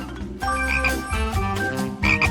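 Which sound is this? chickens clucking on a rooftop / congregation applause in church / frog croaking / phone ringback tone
frog croaking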